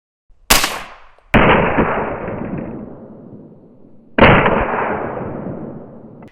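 A 300 Blackout rifle fitted with a Dead Air Sandman suppressor fires three loud, close, muffled shots, each with a decaying tail, the last two about three seconds apart.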